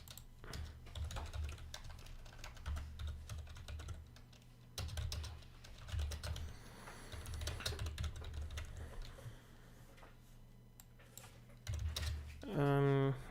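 Rapid typing on a computer keyboard in bursts of close clicking with short pauses between them, and a voice talking at the end.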